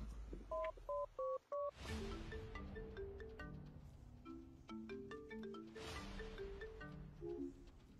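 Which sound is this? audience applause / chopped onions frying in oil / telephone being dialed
telephone being dialed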